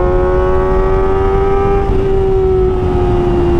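Kawasaki ZX25R four-cylinder fitted with an Arrow Pro Race exhaust screams at high revs, a loud, close, sustained wail held steady before the pitch eases slightly.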